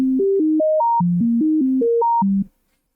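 The default init preset of a MIDI LFO in FL Studio plays a quick melody of about a dozen clean, pure synth tones that hop up and down in pitch, then cut off abruptly, leaving silence.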